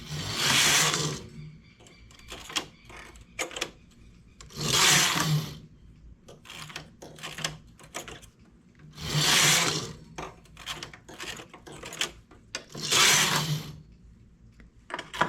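A home knitting machine works rows, its carriage swept back and forth in loud, regular rasping passes every few seconds, separated by softer clicks and rattles from the needle bed, with no talking.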